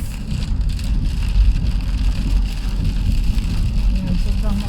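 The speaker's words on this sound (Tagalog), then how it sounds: "sobrang maulan. As in, sobra." Heavy rain pours on a car driving at night, a dense, constant wash of drumming and road rumble filling the whole stretch with no breaks.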